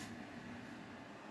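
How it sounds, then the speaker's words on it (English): An air filter running in a bedroom makes a soft, steady whooshing hum with no change or break, faint and continuous. "The noise you can hear is my air filter."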